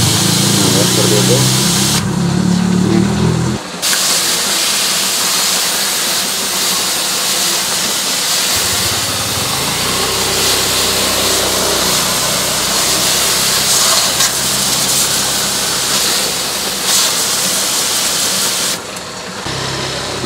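An SC22 power sprayer driven by a 1/4 to 1 hp electric motor runs loudly and steadily, a continuous hissing, humming drone whose pitch shifts partway through, with no breaks for the full length.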